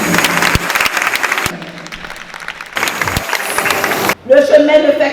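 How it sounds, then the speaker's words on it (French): Audience applause at a graduation ceremony, a loud sustained burst of clapping from many hands, dropping out briefly and then resuming, with a voice speaking over it near the end. "je vous prie d'applaudir la doyenne."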